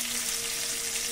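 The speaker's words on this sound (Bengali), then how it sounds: "ফুলকপি একটু ভাজা ভাজা করে তুলে নেব" Cauliflower florets with a little salt and turmeric frying in hot oil for a Bengali egg curry, giving a steady close hiss of sizzling with a faint tonal hum underneath, no voices.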